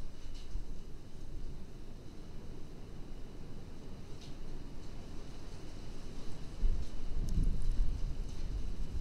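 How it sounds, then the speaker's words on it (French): Wind rumbles against the microphone in an abandoned hospital, a low, uneven buffeting that stays moderate and swells louder toward the end, with no voices. "il capte le vent"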